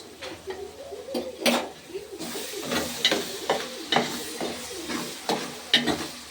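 Sliced onions with salt and ginger-garlic paste fry in a pan for fish curry, giving a soft sizzle under repeated scraping stirs of a spoon against the pan. A few sharper clinks punctuate the stirring.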